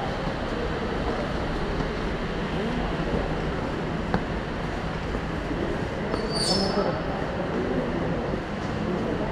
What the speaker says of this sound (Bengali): এই হচ্ছে দক্ষিণেশ্বর মেট্রোর ফার্স্ট লুক